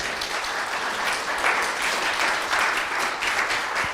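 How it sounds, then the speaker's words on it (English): Sustained audience applause at an affordable housing summit, a dense steady wash of many hands clapping in a hall for the full stretch, with no talk over it. "how about one more round of applause for Amy?"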